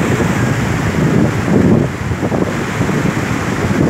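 Wind blowing across a beach on the Riviera Maya, a steady gusty rush with surf-like washes and microphone buffeting, with no voices.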